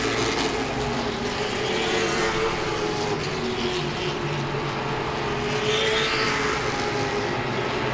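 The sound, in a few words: late model stock cars racing at Langley Speedway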